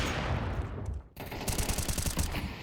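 AK rifle gunfire in the video game CS:GO, a burst of rapid, sharp shots after a brief pause, loud and closely spaced.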